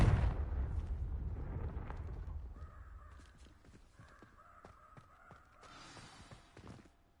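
A Confringo blasting spell goes off in Hogwarts Legacy by a witch's tomb, a loud broadband burst that rumbles and decays over about two seconds, followed by scattered softer crackles and game ambience.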